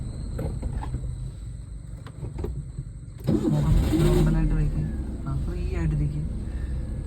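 A car's engine idles and then swells into a louder rumble as the clutch is eased out to move off during a driving lesson in Thenmala, with a voice talking over it.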